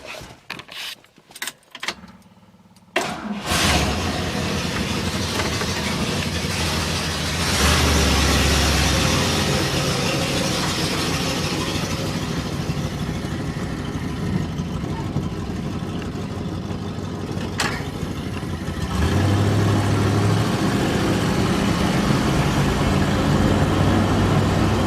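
1963 Oldsmobile engine fitted with a new electric fuel pump, cranking with short bursts before catching, then settling into a steady, loud, close idle with a slight rise in revs partway through.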